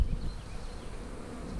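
Bees cluster at a feeder of peppermint-flavored 1-to-1 sugar syrup, their steady low buzzing hum filling the air close by without a break.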